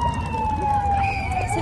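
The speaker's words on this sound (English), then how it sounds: "Sirens escort Army Reserve Unit 394 off the buses" Wailing sirens escorting buses carrying a returning Army Reserve unit at a homecoming after a year in Iraq, a sustained rising and falling tone heard briefly over crowd noise.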